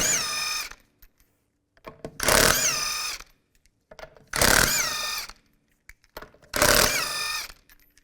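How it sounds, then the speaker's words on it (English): Lug nuts come off a 1997-2001 Honda CR-V rear wheel under a power tool with a 19mm socket, in three loud bursts of roughly a second each, separated by short quiet gaps and small clicks. "Using a 19mm socket, take the lug nuts off."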